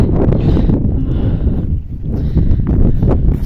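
Cold spring wind blowing across an open field near greenhouses, a steady broadband gusting roar with microphone buffeting that eases briefly midway and then picks up again, with no voices.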